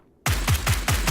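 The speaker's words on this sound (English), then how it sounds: "Suppressing fire." Rapid automatic gunfire in the video game PUBG starts abruptly after a short silence, about five evenly spaced loud, close shots in a quick suppressing burst.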